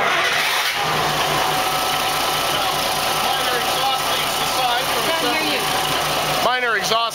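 A boat engine on a six-cylinder wet exhaust conversion runs steadily and loud throughout, with a rough mechanical drone and rising tonal sweeps near the end, heard close up with a voice talking over it.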